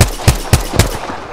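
Four sharp gunshots from a weapon in the video game Apex Legends, fired at an even rhythm about a quarter second apart, loud and close, with no talking over them.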